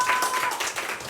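Applause from a church congregation at a sermon contest, greeting the seventh speaker; a dense, steady patter of many hands clapping close by, lasting about a second.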